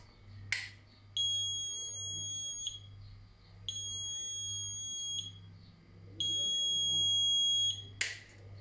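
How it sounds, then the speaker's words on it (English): An Arduino-based smart walking stick for the blind sounds three long, steady high-pitched buzzer beeps, each lasting about 1.5 seconds, separated by short pauses, over a low constant hum, with a sharp click at the start and at the end. "It's going to give him one long constant beep for 1 second, then there's a delay"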